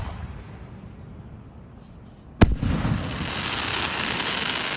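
A firework show at local fairgrounds: after a faint, quiet stretch, one sharp, loud boom bursts out, followed by a sustained crackling rumble and distant echoing pops that continue without letup.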